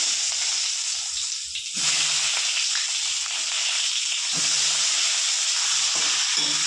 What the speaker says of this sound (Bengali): ওই তেলেই বেগুনগুলো ভাজবো।